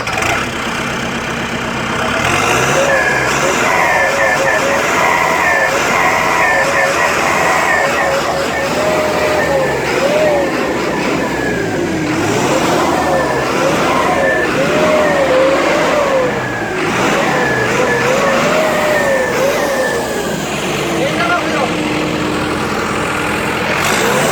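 A brand-new Tümosan 8095 tractor's engine runs close by, a loud rumbling drone that repeatedly revs up and falls back in pitch, with an intermittent whining tone and a voice briefly audible underneath.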